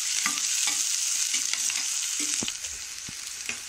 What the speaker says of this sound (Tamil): வெங்காயம் நல்லா பொன்னிறமா வதங்கட்டும்